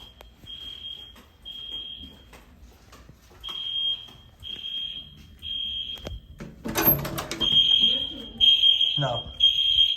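Fire alarm at the Renaissance Wind Creek Aruba resort sounds in repeated steady high-pitched tone pulses, clear and fairly loud indoors, broken by a door opening and closing midway.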